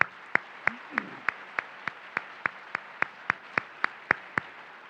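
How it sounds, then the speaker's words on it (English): At a Veterans Day ceremony, applause for a choir and bell players comes as sharp, evenly spaced claps in a steady beat, each one distinct against a quiet, faintly reverberant hall. "Can we give them a round of applause?"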